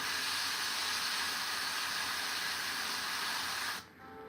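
A spray can coats a Warhammer miniature in a loud, continuous hiss that holds steady for nearly four seconds, then cuts off abruptly, leaving quiet room tone.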